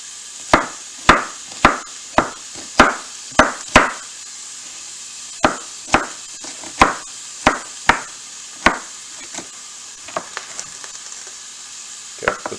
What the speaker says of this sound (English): I'm going to chop up the rest of those cauliflower.